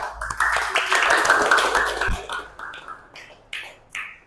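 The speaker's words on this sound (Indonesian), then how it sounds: "Tepuk tangan buat semuanya." A class of students applauding, a burst of dense hand clapping that builds and then thins into scattered, separate claps, with faint voices mixed in.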